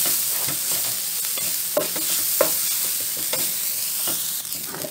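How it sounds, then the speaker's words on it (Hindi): Carrot sizzling and being stirred in a frying pan, a steady close hiss of frying broken by scraping stir strokes and small clicks of the spatula against the pan, with no voices. "गाजर को थोड़ा सा हम इसे बुनाई करेंगे ताकि इसका थोड़ा सा कच्चापन वो खत्म हो जाए।"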